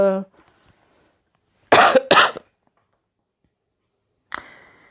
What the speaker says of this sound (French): excusez-moi, je tousse parce que j'ai une bronchite en fait